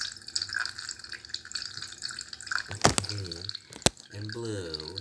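Water splashes and trickles from a colorful LED fountain as a soft, continuous patter beneath lively voices talking over it, with a couple of sharp louder splashes partway through.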